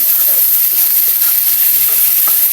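Beef cooking in a pan with oyster sauce and button mushrooms, a loud, steady, close frying hiss with faint stirring knocks underneath.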